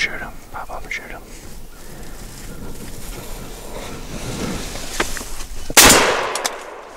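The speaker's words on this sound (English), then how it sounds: "Pop up and shoot him." A single loud gunshot rings out near the end, fired at a wild turkey on a hunt, with a sharp crack and a trailing decay, after a stretch of hushed outdoor wind noise and soft whispered talk.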